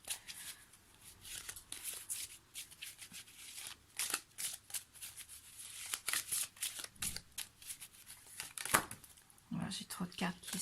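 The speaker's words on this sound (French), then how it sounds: "J'ai trop de cartes qui sont tombées" Tarot cards are shuffled and some fall, giving repeated papery riffles, flicks and slaps in irregular bursts, fairly close and quiet, with a voice present.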